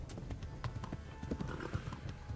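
A horse galloping in the medieval video game Kingdom Come: Deliverance, with a quick, continuous run of hoofbeats, faint and fairly close, over a low rumbling game ambience.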